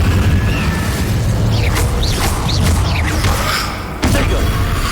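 A fire spell is cast during combat in the Hogwarts Legacy game, giving loud, dense booming bursts and thuds over a constant rumble, with a brief dip near the end before the roar resumes.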